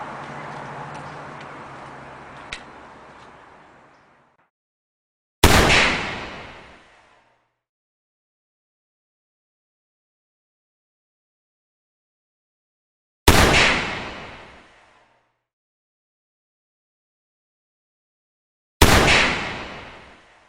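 An AR6 air pistol fires pellets through a chronograph, three sharp, loud cracks spaced several seconds apart with quick decaying tails, following an earlier stretch of broad hiss and handling noise.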